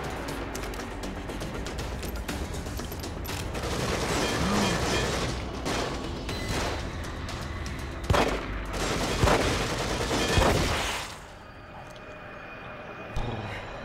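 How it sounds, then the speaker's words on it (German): Magnum revolver gunfire in the horror video game The Evil Within, a dense clatter of loud shots and booms over a steady game background, with a few sharp reports standing out near the end before things quiet down. "Selbst mit der Magnum brauche ich da 3 Schüsse für."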